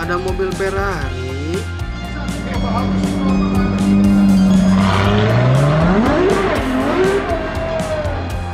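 A Ferrari race car screeches its tires and roars through gliding engine pitch sweeps, loud and close, with a voice speaking over parts of the run.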